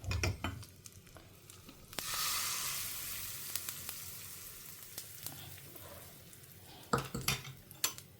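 Mustard seeds spluttering in hot oil: sharp popping and crackling, scattered bursts amid a low sizzle, with occasional clinks of utensils against a pan.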